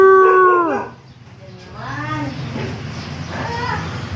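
A dog at home howls in a few drawn-out, wavering calls, loud and close at first, then weaker repeated howls over a low background hum.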